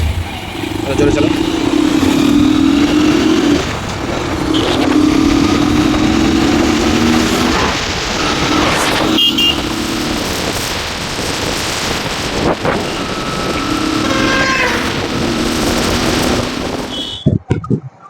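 A Honda SP BS6 motorcycle runs after an ECU repair, its engine humming and rising in repeated surges while riding, with heavy wind buffeting the microphone and someone talking over it.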